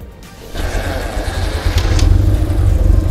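A 1966 BMW R60/2 boxer-twin motorcycle with sidecar fires up and settles into a loud, close, throbbing run, its low pulsing exhaust beat growing steadier and stronger after the start.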